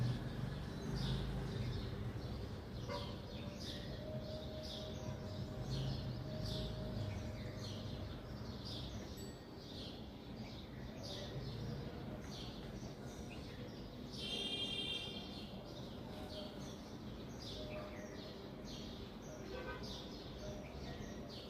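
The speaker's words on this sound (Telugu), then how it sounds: "ఎర్లీ మార్నింగ్ వాయిస్ ఇస్తున్నాను, అందుకే ఇంత బాగా బర్డ్స్ సౌండ్ వస్తున్నాయి" Birds chirp and tweet in the early morning outdoors, scattered calls repeating at moderate distance, mostly faint under a low background hum, with one brighter call standing out midway.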